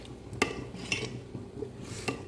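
A spoon stirs rice and milk porridge in a pot. A few sharp metal clinks and scrapes ring out against the pot, separated by quiet gaps.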